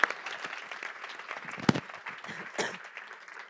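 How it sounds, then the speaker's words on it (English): Applause from the audience at a Nordic food waste summit, a fairly quiet, scattered patter of clapping hands across a room, with one sharper clap standing out midway. "Big applause."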